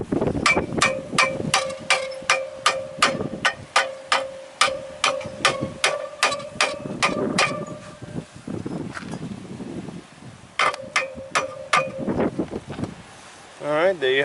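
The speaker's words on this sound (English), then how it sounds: "So I'll get a hammer and start tapping onto it. So there's some light taps." Light hammer taps seating a clutch and pressure plate during installation, a steady run of sharp metallic ticks close by, pausing briefly before a second short burst, with faint background noise.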